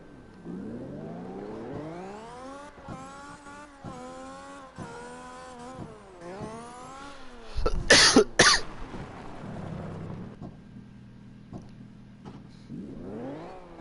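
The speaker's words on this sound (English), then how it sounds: "I cough every now and then" A single sharp, loud cough bursts out over the rising and falling engine whine of cars in a drift racing game, which revs and shifts through the rest of the moment.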